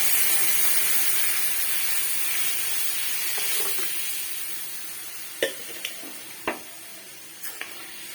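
Ingredients fry in a pan for an ash gourd and masoor lentil curry, a loud, steady, close hiss of sizzling oil that slowly eases, followed by a few sharp utensil clinks near the end.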